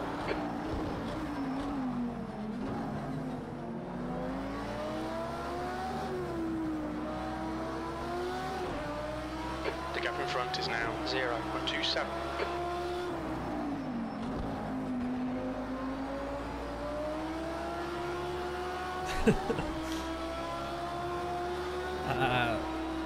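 An Audi GT3 race car engine in Project Cars 2 during an endurance race, droning loudly and steadily and rising and falling in pitch through gear changes and corners, with other cars nearby and a race engineer speaking over the radio.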